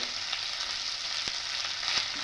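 Potatoes with ground coriander and cumin fry in a pan under a steady, dense sizzle, with occasional soft scrapes of a spoon stirring through.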